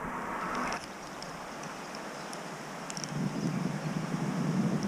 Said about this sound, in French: Il y a encore un petit peu de vent, mais ça se calme.